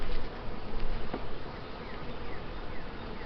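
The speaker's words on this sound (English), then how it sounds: "There's just a ton of bees in here." Honey bees buzz inside an open hive during a varroa mite treatment, making a dense, continuous hum close by that stays fairly steady and soft with no talking.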